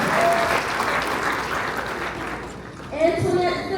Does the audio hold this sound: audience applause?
yes